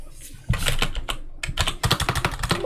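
Rapid keystrokes on a computer keyboard, including an Enter press, in quick bursts of crisp clicks with a short pause midway, close and clear with no talk.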